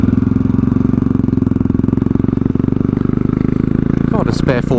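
A chrome Royal Enfield Classic 500 motorcycle's single-cylinder engine runs close and loud with a rapid, even thumping pulse throughout, with a short burst of higher mechanical rattle near the end.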